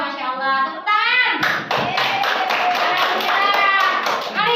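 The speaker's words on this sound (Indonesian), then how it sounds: "Tepuk tangan." Children in a classroom clap their hands, rapid, uneven claps rising over singing or chanting young voices, loud and close, with voices heard before the clapping starts.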